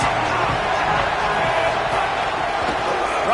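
A dense stadium crowd roars steadily for the defense on a third down at a college football game, a loud, unbroken wall of cheering.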